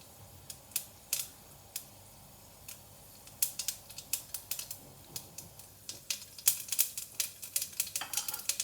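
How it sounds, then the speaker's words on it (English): Mustard seeds splutter in hot oil for a pepper water tempering: sharp, irregular pops and crackles, sparse at first and then growing quicker and denser, close and fairly quiet with no talk. "So the mustard has started spluttering."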